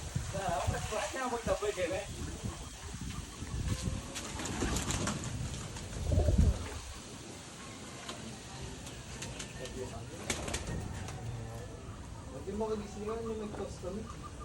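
Racing pigeons coo softly in a large stock loft, low rolling calls repeating through the clip while people talk nearby and over them.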